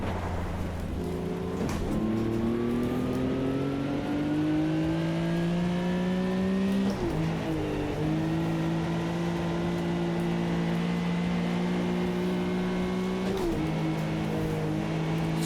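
A 1974 Porsche 911 race car in Automobilista 2 at Kyalami, flat-six engine revving hard through the gears in the wet, rising pitch sweeps broken by sharp upshifts, loud and steady throughout.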